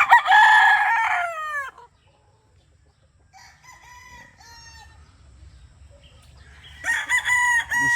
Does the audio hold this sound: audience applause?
no